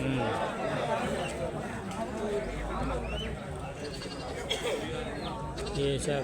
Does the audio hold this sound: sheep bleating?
yes